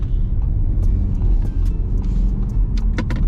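Inside a 2021 Audi A4 TDI wagon with four-wheel drive, a low, steady road and engine rumble fills the cabin, with a few light rattles and clicks over it and no talking.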